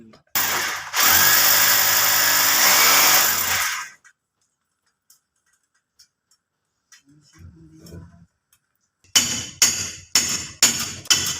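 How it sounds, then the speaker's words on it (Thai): A power drill bores into a ceiling for size 17 wall anchors while a chandelier is hung in a front-hall entry. One long, loud, steady whine lasts a few seconds, then comes near-silence with faint clicks, then a run of sharp, rhythmic hammer-like knocks. "เจาะฝังพุกเบอร์สิบเจ็ดสองตัวนะครับ"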